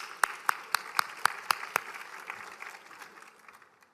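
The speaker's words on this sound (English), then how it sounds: "Please give him a round of applause" A short round of audience applause at a St. Thomas University Ben Crump College of Law event, opening with a few sharp, evenly spaced claps, then a fairly close crowd patter that fades out over a few seconds.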